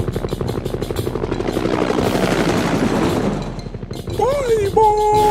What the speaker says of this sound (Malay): Lihat, ada helikopter sedang terbang.